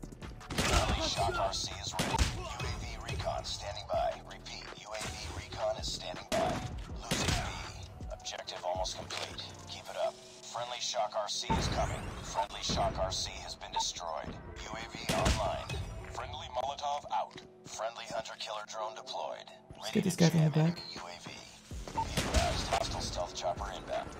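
Shotgun fire in COD Mobile, repeated heavy blasts and impacts scattered through a busy match, with someone talking between and over the shots.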